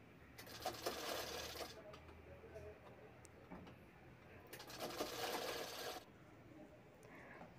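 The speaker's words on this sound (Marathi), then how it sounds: "खाली मी दुमडून शिवत आहे पट्टी तळघेराची" Sewing machine stitching the folded hem strip of a lehenga lining, running in two steady bursts of whirring with a quiet pause between, then stopping.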